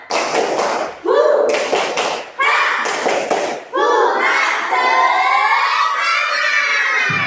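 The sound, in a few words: children doing a rhythmic spirit clapping chant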